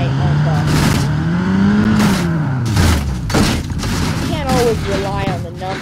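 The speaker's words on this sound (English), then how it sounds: "it's a 160 and it has a 4-cylinder engine" A four-cylinder Cherrier Vivace 160 engine in BeamNG.Drive rises and falls in pitch as it revs, with sharp bursts and crashes mixed in and someone talking over it.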